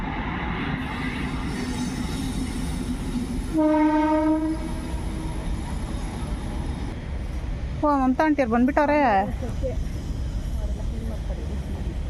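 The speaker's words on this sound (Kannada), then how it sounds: "ಟ್ರೈನ್ ಒಂದು ಬರ್ತಿದೆ ಇವಾಗ" A train passes beside a hill, its horn sounding a steady blast and then a wavering one, over continuous background rumble. People talk nearby.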